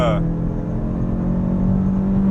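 Engine of a Renault Clio 2 RS pulling hard under acceleration, a steady loud drone heard from inside the car that holds its pitch across the stretch, with a voice talking over it.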